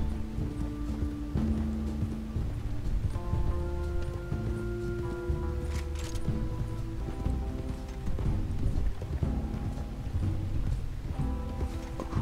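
Horse hooves walking in the video game Red Dead Redemption 2, a soft steady clip-clop that plays under sustained music and ambient game sound.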